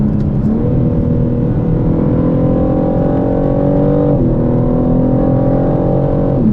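BMW M3/M4 Competition from 2021, a 510 hp six-cylinder, droning loudly and steadily as it is driven, with pitch rising and a brief dip around a gear change, heard from outside without any talk.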